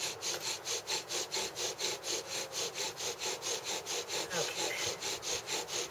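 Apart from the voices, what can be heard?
bow drill spindle grinding in a wooden hearth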